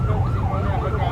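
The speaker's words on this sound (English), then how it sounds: "This alarm just went on the ship." A loud wailing alarm siren on a ship in the South China Sea warbles up and down continuously, with a rumbling low background.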